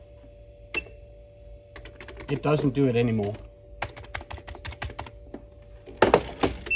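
Keys clatter on the keyboard of a Casio FP-1000 computer, nearly 40 years old, in scattered close taps and short bursts, with someone talking briefly in the middle and a steady electrical hum underneath.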